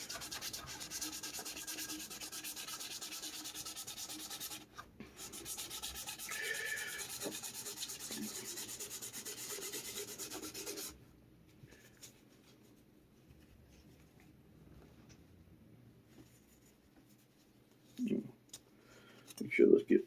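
Hand sanding with 1800 grit abrasive on a Telecaster guitar build makes a steady, close rubbing rasp for about eleven seconds, then quiet handling and a few soft knocks; a voice is faintly present.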